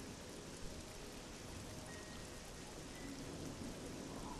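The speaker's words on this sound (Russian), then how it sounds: "О, еще и дождь пошел." Steady rain falling in the video game Oblivion, a soft, even hiss of raindrops with no talk and no break across the short stretch.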